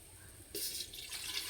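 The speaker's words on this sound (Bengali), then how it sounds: "হাঁড়িতে দেবো জল।" Water is poured into a cooking pot set on a stove. The splash starts suddenly and runs on briefly, close by but fairly soft, with no talking.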